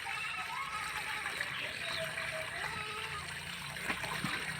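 Water splashes and pours steadily into a bucket during the rescue of a krait snake, a continuous close wash of liquid noise with faint voices in the background.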